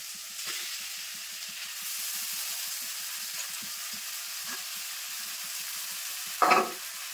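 Boiled chowmein noodles tossed with fried vegetables in a pan, a low steady sizzle with soft intermittent stirring and one sharper scrape near the end.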